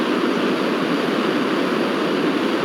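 An airplane engine in GTA 5 roars as a steady, loud, broadband rush with no letup, close and alone.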